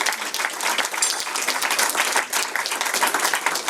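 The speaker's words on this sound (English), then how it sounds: "Would you all give them a very warm round of applause?" Sustained audience applause at a space policy conference, dense steady clapping from many hands throughout with no voices on top.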